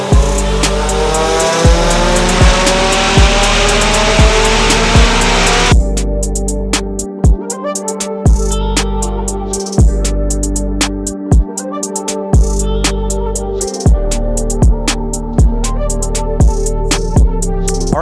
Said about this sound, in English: Gonna put on the dyno now, put it through its paces